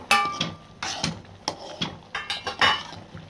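A spoon scraping and clanking against a metal pot while rava is stirred into boiling water with vegetables for khichadi, in a quick irregular run of sharp knocks and scrapes.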